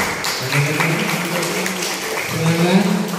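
Applause from the audience at a student debate competition on a draft bill, steady clapping across the whole stretch with voices talking over it.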